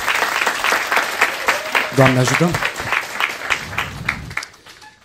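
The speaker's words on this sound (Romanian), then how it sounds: "Hai încă un rând de aplauze pentru toți care au urcat." Crowd at a stand-up comedy show applauding loudly for several seconds, with a voice speaking briefly over the clapping before it dies away.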